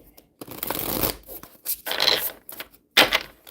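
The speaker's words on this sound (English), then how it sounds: "So we're gonna give them a quick shuffle off" A deck of oracle cards with foil edges is shuffled by hand in several quick bursts of riffling and sliding, close up, separated by short pauses.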